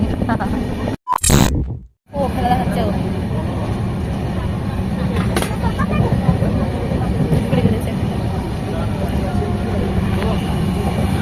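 A late passenger train runs on a winter trip, heard from inside the carriage as a steady rumbling roar with rattles and a brief dropout near the start, continuous and close.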